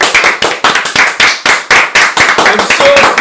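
Close, loud hand clapping from a small group in a podcast-style room, a quick uneven run of sharp claps lasting a few seconds with faint voices mixed in.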